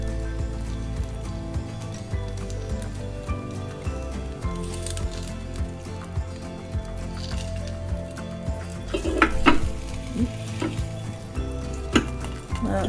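A sous vide T-bone steak sears and sizzles loudly in a hot pan, with a steady frying hiss, occasional utensil clinks and a brief louder scrape as the meat is turned.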